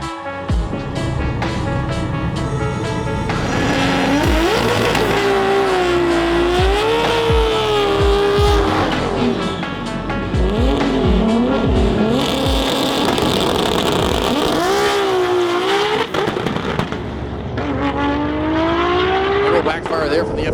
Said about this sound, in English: the 98 Supra, Vlad here on the left side of the racetrack.